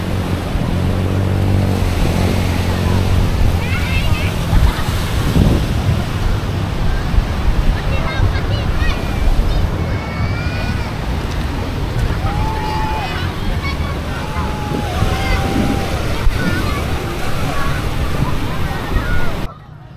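Steady wash of sea surf on Tando beach in Infanta, Quezon, with wind noise across the microphone, broad and continuous, with people talking and birds calling faintly in the background.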